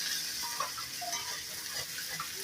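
Ash gourd frying in a pan while being stirred, a soft, continuous sizzle with gentle scraping and small bubbling pops, fairly quiet and steady with no voices.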